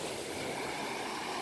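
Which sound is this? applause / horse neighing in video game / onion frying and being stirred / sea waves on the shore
sea waves on the shore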